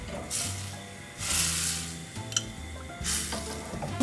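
Butter sizzles in a pan sauce for crispy chicken thighs, hissing in bursts between stirs, close and fairly loud with a low hum beneath, no talking.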